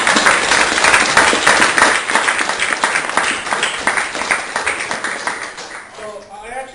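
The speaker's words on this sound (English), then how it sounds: "Let's clap it up for him." An audience at a startup interview event in Davis, California breaks into loud, sustained clapping that tapers off toward the end, with voices mixed in.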